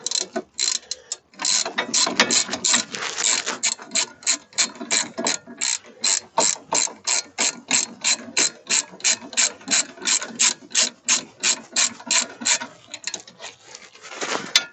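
Ratchet wrench with a 40mm socket tightening a fastener on car brakes during a brake disc change, a long steady run of rapid clicking strokes, close and loud, with no talking.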